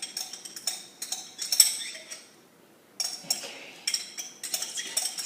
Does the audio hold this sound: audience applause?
no